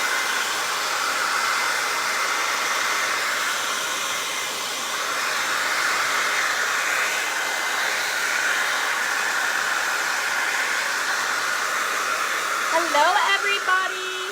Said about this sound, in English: I'm gonna hit this 10 seconds with the blow dryer.